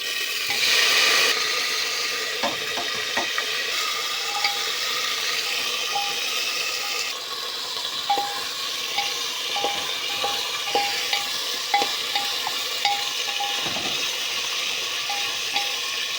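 Potato, bean and onion curry with turmeric, spices, tomato and bay leaf fries in a pan with a steady sizzle, while a spoon stirs and scrapes against the pan in light, irregular clinks.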